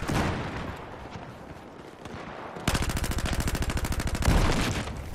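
Rapid automatic gunfire from a sniper in a video game scrimmage, one fast burst of evenly spaced shots following scattered shots and rumble, mid-loud and without speech.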